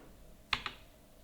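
Two quick, close computer keyboard taps sound in a quiet room while entering data in Tally Prime accounting software.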